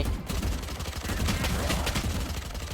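Continuous gunfire in the video game Valorant, a dense, busy stream of shots and impacts that stays loud and close throughout with no pauses.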